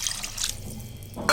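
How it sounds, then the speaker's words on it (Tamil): Water poured into a simmering pot of mor kulambu, a thick buttermilk curry with masala vadai, giving a short close splashy trickle with no voices. "இப்போ இதில் இன்னும் கொஞ்சம் நல்லா தண்ணி விட்டுக்கலாம்."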